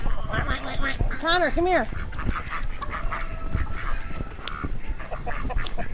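Indian Runner ducks quacking and honking in quick nasal bursts close by on a farm, loudest early on, with a person calling out over them and more talk following.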